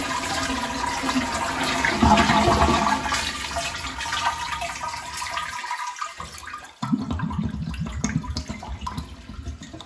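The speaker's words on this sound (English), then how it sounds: "Now hold the lever down so that it drains as much as possible." A household toilet being installed flushes loudly with the lever held down, water rushing and swirling close up, then a brief gap before the drain gurgles and the tank refills.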